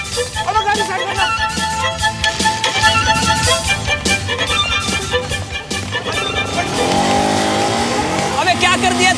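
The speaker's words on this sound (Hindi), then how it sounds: "अब गाड़ी स्टार्ट करना।" A car engine revs hard as the vehicle pulls away, with tire squeal and roaring acceleration carrying on loudly throughout, while people talk excitedly over the noise.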